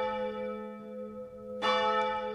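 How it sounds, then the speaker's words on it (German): The large bells of the Heiligkreuzkirche in Oberlauringen ring, the biggest of the four cast in 1475, giving a sustained, humming tone, then a fresh loud strike rings out near the end, with no voices. "Die mächtigen Glocken der Heiligkreuzkirche rufen uns zum sogenannten Kaulhügel hinauf."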